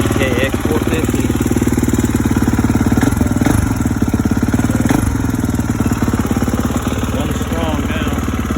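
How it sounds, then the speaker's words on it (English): 2019 Kawasaki KX450 dirt bike engine idles close by at a loud, steady pitch, its rapid chugging pulse continuous throughout with a few faint knocks over the top. "Finally fixed the 2019 Kawasaki KX450"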